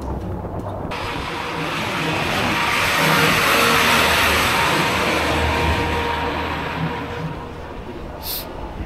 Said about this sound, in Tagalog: Darating na truck